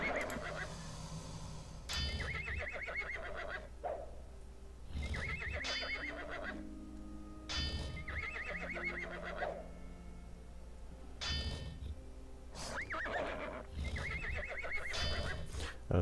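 Several horses neigh and whinny repeatedly in a video game fight against scorpions, loud whinnies recurring every few seconds over faint hoof clops and game sounds.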